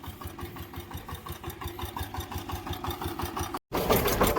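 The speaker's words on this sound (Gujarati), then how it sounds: "આપણું ટ્રેક્ટર ચાલુ ચાલુ હતું" A small tractor engine idles steadily close by on a watermelon farm, its rapid even chugging holding throughout before a brief cut and a louder, rougher burst at the end.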